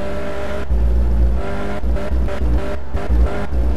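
A modded car engine in My Summer Car roars steadily at top speed, a loud, constant droning hum with slight surges and brief dips, heard close and alone.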